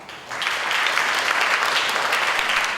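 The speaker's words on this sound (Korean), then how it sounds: "큰 박수 부탁드립니다." Audience applause fills a seminar hall as a keynote speaker from a Korean electronics research institute is introduced at an AI cloud seminar, a steady dense clapping that swells in quickly and holds loud for a few seconds.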